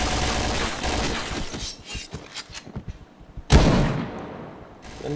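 Gunfire in the online shooter PointBlank, with a burst of rapid shots followed by scattered single cracks, then a sudden loud blast and a further short burst, all close and fairly loud.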